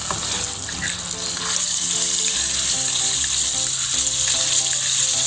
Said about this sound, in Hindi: जी नाज़रीन, इसमें हम ये दही वाली फ़िश ऐड करने लगे